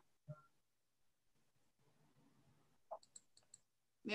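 A computer mouse clicking during a screen-sharing session, a few sharp, quiet clicks spread across a mostly quiet room, with faint background murmur between them.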